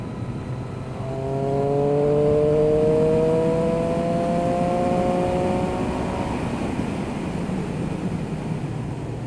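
A 2017 Triumph Street Triple RS with 121 horsepower pulls hard in sixth gear on a fast road, its engine note rising steadily in pitch against loud wind rush as the bike gathers speed.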